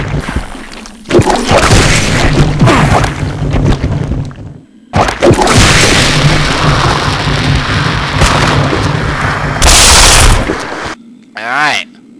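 Molotov cocktails burst against a Leech Man in Resident Evil Zero, each throw a loud booming whoosh of flames with crackling fire, in three dense roaring bursts separated by short gaps, ending in a warbling creature cry.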